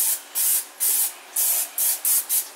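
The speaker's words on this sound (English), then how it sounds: "now I'm going to take a little bit more of my spray." Six quick hissing bursts from an aerosol cooking oil spray can, each about half a second long, separated by brief silences.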